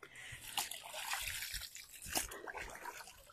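Young wakame seaweed leaves are rinsed in water, giving soft trickling, dripping and sloshing sounds in irregular bursts, quiet and close.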